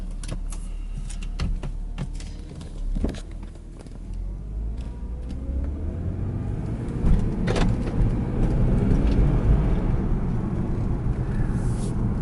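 A 2008 BMW 328xi E90 engine, with a new air filter, rumbles steadily from inside the cabin while driving, with low-pitched road noise and occasional clicks and knocks.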